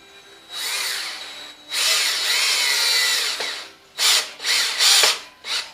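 Power drill with a Phillips head bit driving a screw into a small antique wooden table, several loud whining bursts: two long runs, then a series of short on-off pulses close up.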